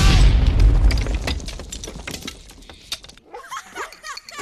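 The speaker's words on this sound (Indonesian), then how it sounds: "petasan itu sudah dinyalakan dan meledak" A firecracker exploding in the Toy Story film, a loud booming burst with crackling debris that trails off, followed by a short quieter scattering of sharp pops.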